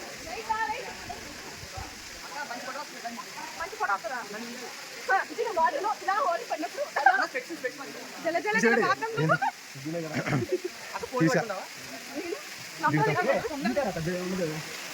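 Steady flowing water near a Sri Anjaneya temple at Tirumala keeps up a constant rushing hiss, while voices talk over it and the flow stays in the background throughout.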